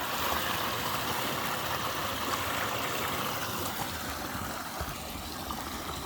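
Water rushing steadily through a Salomon water filter on a 2-litre Hydra Pack during a fast-flowing squeeze, a continuous close hiss and gush with no talking.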